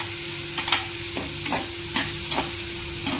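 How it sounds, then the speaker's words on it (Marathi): Onions sautéing in a pan with salt for egg bhurji, a steady sizzle broken by several scraping stirs at an uneven rhythm, close and clear with nobody speaking. "कांदा व्यवस्थित गुलाबी होईपर्यंत परतून घ्यायचा आहे"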